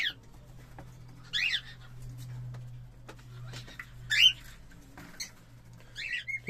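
Cockatiel chicks make faint, scattered high chirps and raspy calls over a low background hum, quiet and intermittent.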